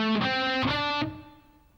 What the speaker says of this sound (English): So those 2 arpeggios together sound like this.